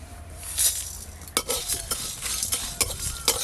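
Whole cumin, coriander, peppercorns, fennel and dried red chillies dry-frying in a pan, with quiet rustling and several sharp scraping stirs and clinks of the spoon.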